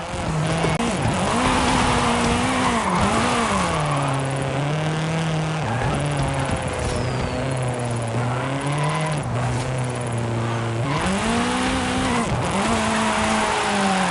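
A Sprinter van drifting down a runway in Forza Horizon 5, its engine droning steadily while the tyres give a long, loud squeal that wavers in pitch throughout, with no talk.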